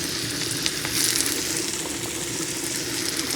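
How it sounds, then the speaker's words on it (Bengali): Unpeeled potato slices fry in a pan with a steady, close, hissing sizzle and faint bubbling, heard alone without any talk. "আর এই আলুগুলো ভাজা করতে বেশি টাইমও লাগে না, এক্ষুনি ভাজা হয়ে যাবে"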